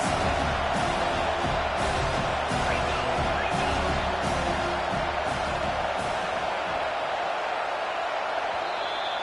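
A stadium crowd cheers on a big third down in the NCAA 25 college football video game, a steady roar of massed voices with rhythmic chanting bursts underneath.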